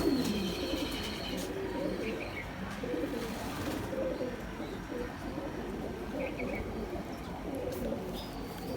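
Blue pigeons coo steadily in a loft, soft repeated low calls under a constant background hum, with occasional faint chirps from other birds nearby.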